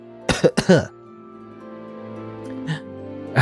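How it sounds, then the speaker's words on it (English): A short, mild coughing fit after a cookie went down the wrong way: a few close, harsh coughs in quick succession, then a fading wheezy throat sound, with faint soft voices afterward. "the cookie went down my throat the wrong way, sending me into a mild coughing fit"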